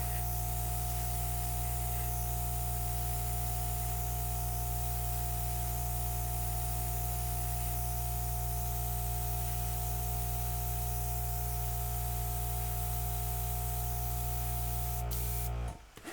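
An airbrush sprays acrylic paint for edge work, giving a steady, loud, unbroken hiss throughout that cuts off abruptly at the very end.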